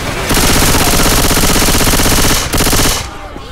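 MAC-10 submachine gun fire in the video game Left 4 Dead 2: a loud, dense, sustained automatic burst with a brief break near the end before it resumes and cuts off, leaving low background noise.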